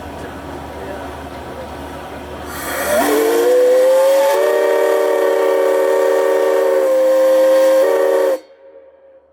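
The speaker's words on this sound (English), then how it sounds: "here we can hear our ship's horn." Horn of the Goethe, a river paddle steamer on the Middle Rhine, a loud sustained steam-whistle blast with a brief pitch shift in the middle, sounding for about five seconds over a hissing onset and then cutting off.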